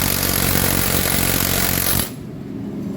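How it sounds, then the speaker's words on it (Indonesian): An air impact wrench rattles loudly and continuously while loosening the crankshaft nut on a Jupiter MX motorcycle, then cuts off abruptly, leaving quieter workshop background. "Lalu kemudian kita buka mur engkol biar gak berputar."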